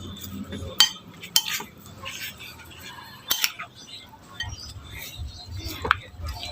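Kilawing tuna and pork belly with onion and chili is stirred in a bowl with a utensil, producing a few sharp metallic clinks and scrapes over soft mixing noise, up close, with a voice faintly in the background.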